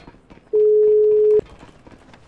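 In a GTA roleplay game, one steady electronic ringback tone plays unanswered for nearly a second, clear and close, with faint quiet noise before and after it.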